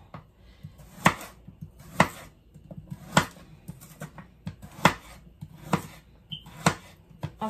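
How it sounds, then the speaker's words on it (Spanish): A knife chops carrots into long strips on a cutting board while vegetables are prepared for a simple shrimp broth, producing about eight sharp, evenly spaced thuds close up with no talking. "ahora voy a picar mis zanahorias"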